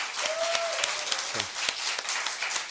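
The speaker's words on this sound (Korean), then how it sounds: "우리 성가대 다시 한번 박수하겠습니다." A church congregation applauds a choir, with scattered sharp claps over a dense patter of clapping, plus a brief high tone near the start.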